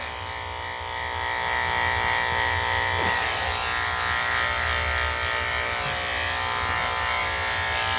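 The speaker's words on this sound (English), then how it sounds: "back to shaving. So I'm gonna come right under her neck here" Electric clippers buzz steadily and close up while shaving a Yorkie's coat, a continuous motor hum with a slight shift in tone as the blade moves under the neck.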